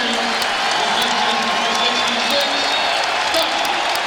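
A large arena crowd at an NBA basketball game between the Boston Celtics and Houston Rockets applauds and murmurs steadily throughout, with a commentator's voice talking over the clapping.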